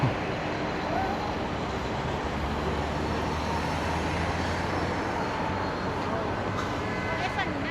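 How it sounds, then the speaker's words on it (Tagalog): Steady street traffic roars beside a park in Dubai, a dense, continuous wash of passing vehicles heard close and loud throughout with no breaks. "Ayun, traffic na oh."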